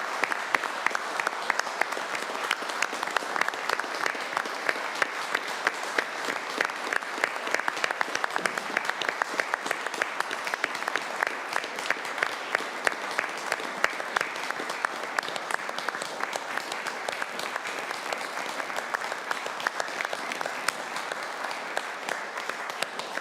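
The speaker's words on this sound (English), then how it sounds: "can we give a round of applause to those past members in the" A room of attendees at a town council meeting gives a steady, moderately loud round of applause for past members, clapping evenly for over twenty seconds without pause.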